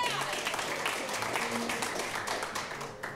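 An audience at a live improv comedy show applauds the contestants, giving a dense, even patter of clapping that holds steady and then starts to thin toward the end.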